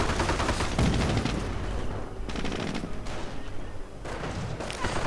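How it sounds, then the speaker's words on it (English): Rifle gunfire crackles between infantry squads in a WWII real-time strategy game, with repeated shots and bursts forming a steady battle din for the whole span. "Minor engagement up here between riflemen."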